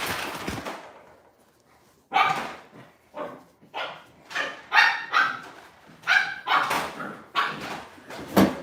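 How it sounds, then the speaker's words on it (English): An American bully dog barks in a rapid series of loud, close barks, with a single bark at the start, then a pause, then about a dozen more in a fairly regular rhythm. "This boy here's gonna be a big dog."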